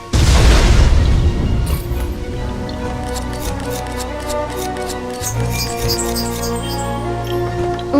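A cannon fires after its fuse is lit in the Puppeteer video game, a loud heavy boom at the start fading into a rumbling tail, followed by clattering and ticking game sounds.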